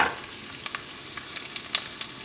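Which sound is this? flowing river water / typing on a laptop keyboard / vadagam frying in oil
vadagam frying in oil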